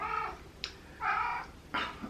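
A house cat meows to be let out, giving three distinct close, fairly loud calls spaced across a couple of seconds, with no talking over them.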